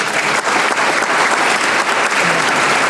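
Loud, dense applause from an audience at a small-business awards ceremony, continuous clapping filling the whole short stretch.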